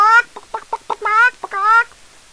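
A voice imitates a hen, making a quick series of clipped clucks followed by two longer, drawn-out squawks, close and clear with no background.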